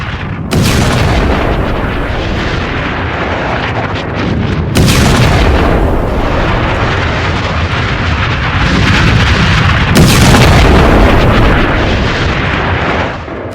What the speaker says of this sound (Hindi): इजराइल ने जो टनल है, सुरंग, उसमें धमाका करके उसे उड़ा दिया है